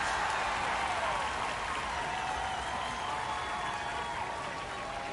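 A minor-league baseball crowd at a San Antonio Missions vs Midland Rockhounds game cheers after a strikeout, a steady, dense wash of applause and crowd roar that fills the whole stretch.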